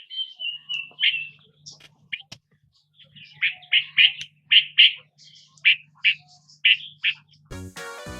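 A bulbul calls in a rapid series of bright, repeated chirps and short whistled notes, close and clear over a faint low hum, followed by a brief burst of tonal music at the end.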